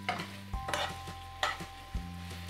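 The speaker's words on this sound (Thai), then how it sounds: "บัดนี้ค่ะก็สิโรยกระเทียมผัดใส่น้ำน้อยนึงเนาะเพื่อความหอม" Pork pieces fried with garlic are stirred in a pan, with a few scraping spoon strokes and a low sizzle beneath, plus a steady hum; no talking.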